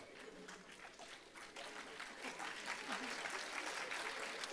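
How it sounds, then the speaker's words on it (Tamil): An audience claps for a comedic motivational talk by a speaker, a dense burst of applause that swells and keeps building to the end. "மனசாட்சியுடையவர்கள் கைத்தட்டுகிறீர்கள்."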